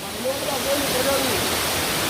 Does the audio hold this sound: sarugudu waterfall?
yes